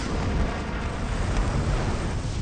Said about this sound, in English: The explosion cuts it short.